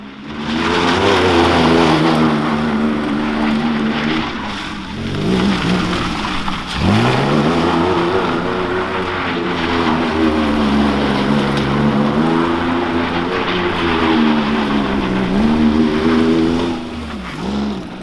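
A Lykan Hypersport supercar's engine revs hard and continuously on a test drive, its pitch climbing and dipping through repeated surges at loud, close range with no voices over it.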